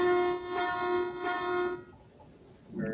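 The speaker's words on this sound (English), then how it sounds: "blasts of the horn" Three sustained train horn blasts in the railway simulation game Derail Valley, loud and close, each a bright steady multi-tone chord fading into quiet engine rumble.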